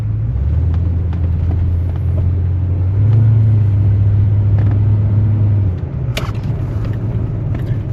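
A 1972 Cadillac Eldorado with a 500 cubic inch engine drives along, its deep, steady low rumble rising slightly in the middle before easing off, heard from inside the car with no talking.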